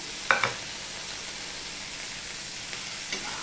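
Sliced potatoes and onion with green chillies fry in a hot pan, giving a steady, even sizzle with a few soft clicks of stirring near the start and end.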